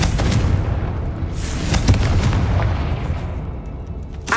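Confringo fire spell exploding in Hogwarts Legacy gameplay, a loud, dense rumbling blast that roars continuously for about four seconds with no voices over it.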